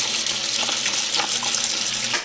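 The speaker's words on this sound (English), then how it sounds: "First, you wash 1 cup of sweet rice with 2 cups of regular rice." Rice, one cup of sweet rice with two of regular, being washed in water, giving a steady close rushing and sloshing with soft grainy clatter, continuous with no talk.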